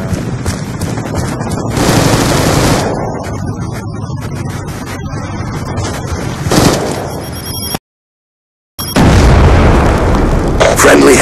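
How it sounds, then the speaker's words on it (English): Missile explosions from a Hellstorm strike in a video game, heavy booming blasts arriving in a few loud bursts with a brief silent gap, over wind-like rumble and occasional voice. "Friendly Hellstorm missile inbound."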